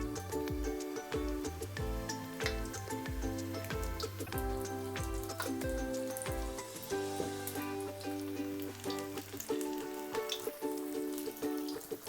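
Mixed vegetable pakoras frying in hot oil, a steady crackling sizzle running continuously beneath prominent background music.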